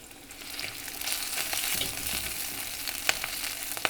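Dal frying with split dried red chilies crackles in a pan as it is mixed. A steady close sizzle swells slightly, with a few sharp spoon clicks near the end.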